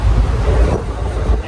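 Inside a moving train, a steady low rumble and rattling wheel noise fill the carriage at a constant level with no voices.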